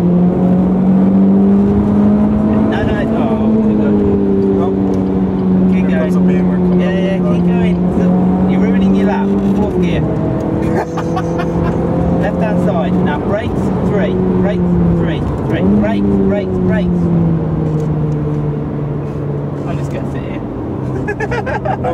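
A Renault Sport Clio Cup race car engine drones steadily at the Nürburgring, loud and close from inside the car, its pitch rising through the gears and then dipping at each shift, with a voice talking over it throughout.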